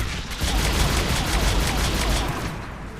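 Enemy turret fire in Mass Effect 3 pounds out as a dense, loud, continuous automatic barrage with rapid pulsing shots across the whole stretch, easing slightly at the end.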